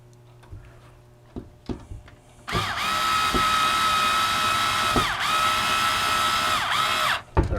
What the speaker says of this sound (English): I'm going to screw all four in first and then tighten them.